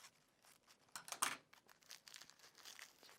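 Leaves crinkled and bundled up by hand into a paintbrush-like tuft, very faint close rustling and crumpling in short irregular bursts, peaking briefly in the middle.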